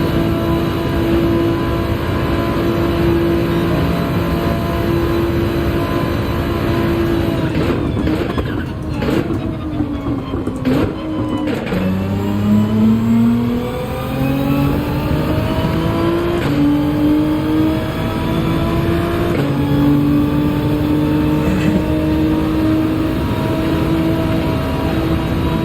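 A Gr.3 race car engine in Gran Turismo 7 at Interlagos revs loudly and continuously, pitch climbing and dropping through gear shifts and throttle lifts, a steady close engine roar with no speech over it.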